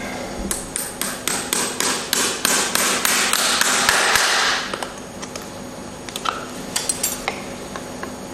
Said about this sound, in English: Once you become confident with this nailing, the less hits you do, the better to get that nail in